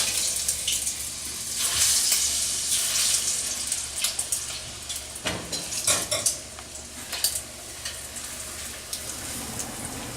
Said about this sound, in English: We'll take them to the hot oil.